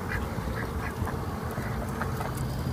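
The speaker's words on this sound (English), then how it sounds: "I'm going to show y'all the ducks" Ducks quack repeatedly in short, uneven bursts over a dense, noisy outdoor background, moderately close, with no voices.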